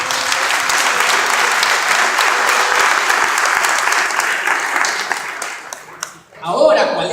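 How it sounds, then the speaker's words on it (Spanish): A church congregation breaks into loud, sustained applause that fills the room evenly for several seconds, then fades out as a voice begins speaking. "Denle un fuerte aplauso al Señor"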